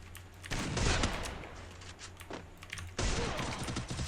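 Bursts of rapid gunfire in a 1v2 video game match come in two loud volleys with a gap between them, sharp crackling shots with no talk over them.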